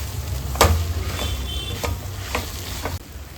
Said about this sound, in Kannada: ಒಂದು 6 ನಿಮಿಷ ಫ್ರೈ ಮಾಡಿಕೊಂಡ್ರೆ ಆಯಿತು.